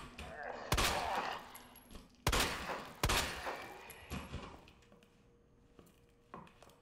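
Shotgun blasts in the Resident Evil 2 video game, three sharp, loud booms with short decaying tails, spaced a second or two apart, followed by fainter clicks and thuds.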